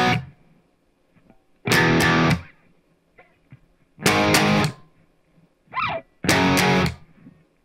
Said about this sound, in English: Same power chord sequence that we used in the rhythm guitar in the intro